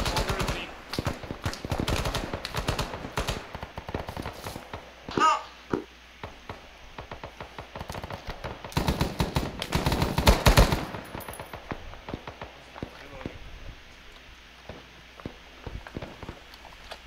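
Rapid bursts of gunfire in a video game battle, clustered volleys of sharp shots and machine-gun rattle, loud and close in places with quieter gaps between exchanges.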